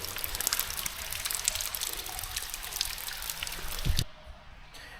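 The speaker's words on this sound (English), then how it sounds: "you can see what I mean, all the water dripping from the ceiling." Water from a leaking pipe drips and trickles from a tunnel ceiling. The patter is steady and dense, with many small splashes close by, and it suddenly drops away near the end.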